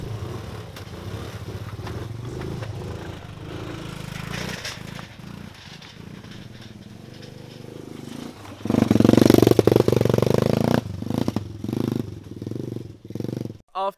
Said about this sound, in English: Right, let's do this. Moped hill climb.